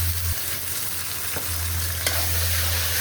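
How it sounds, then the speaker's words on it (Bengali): Ginger, garlic and onion paste with chopped onion and salt sizzles steadily in a hot pan, broken by a couple of quick stirring scrapes, close and loud with no talk. "মশলাটা একটু ভাজা ভাজা হোক।"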